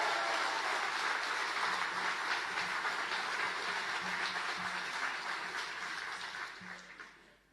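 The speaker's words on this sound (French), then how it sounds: "Ah bah des applaudissements pour la Haute-Marne." Applause from the audience at a Rassemblement National political rally in Caudry, Nord: a steady, dense crowd clapping that fills the whole span and fades out toward the end, with no voices over it.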